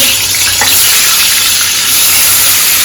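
Tomatoes hit a hot pan for momo chutney, setting off a loud, close, continuous sizzle with hissing steam that stays steady throughout.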